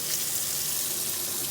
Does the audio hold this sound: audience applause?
no